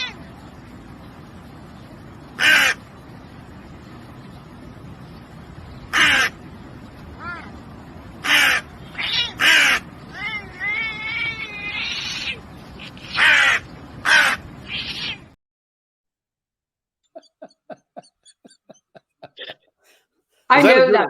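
Crows cawing in repeated harsh bursts over a steady background hum, loud and close, with a run of faint clicking near the end.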